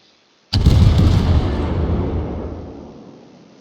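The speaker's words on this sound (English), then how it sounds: "he's just lobbing shells over the island" Naval shells lobbed from a warship over an island in a World of Warships-style game, Baltimore cruiser: one sudden loud cannon blast with a rumbling boom that rolls and slowly fades over several seconds, no voices.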